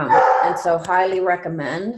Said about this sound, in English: Sorry that my dog is barking in the background.